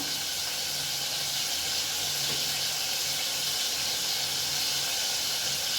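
Ginger garlic paste sizzling in a hot pan while chicken jahangiri is cooked, a steady broadband hiss running throughout with a faint low hum beneath and no voices.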